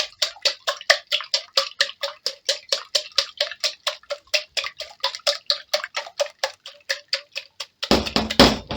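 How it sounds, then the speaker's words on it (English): Eggs beaten in a bowl for a Jamaican omelette, a fast steady run of crisp clicking strokes that ends in a brief flurry of quicker whisking, with no talking. "So you just beat the egg, loosen it up a bit."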